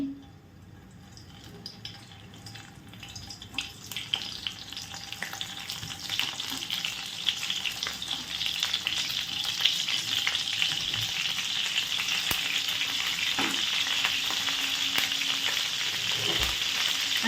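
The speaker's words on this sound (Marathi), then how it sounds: "पॅनमध्ये आपण दोन चमचे तेल टाकून घेऊया आणि तेलामध्ये ही वांगी अशी सोडून घ्यायची आहे" Stuffed eggplants fry in a couple of spoonfuls of oil in a pan, giving a close, continuous crackling sizzle that starts soft and grows louder and denser, with occasional pops.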